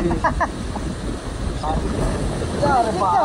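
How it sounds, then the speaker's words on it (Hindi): Strong wind buffets the microphone at a riverside camp during monsoon rain, a steady broadband roar throughout with voices talking over it. "तो भाई जोरदार हवा चल रही है"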